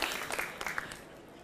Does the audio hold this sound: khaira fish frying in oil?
no